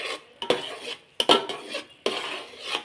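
A spoon stirring and scraping flour into jaggery syrup in a metal pan while making ariselu, several sharp clanks and grinding scrapes in uneven bursts, close and loud, with no talk.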